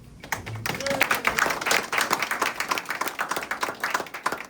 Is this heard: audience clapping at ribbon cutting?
yes